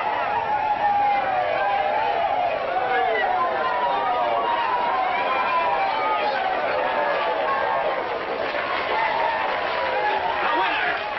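A 1940s Western crowd yells and cheers for the Barrowby stagecoach after it wins a race. Dense overlapping voices roar continuously from start to finish.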